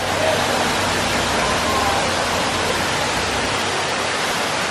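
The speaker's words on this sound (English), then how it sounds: "There's another waterfall." A waterfall in Hawaii roars in a loud, unbroken rush of falling water, close and steady, with no voices over it.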